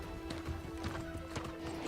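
A horse gallops in the video game New World, its hooves beating a steady rapid clip-clop rhythm under a constant game ambience and a faint background tone.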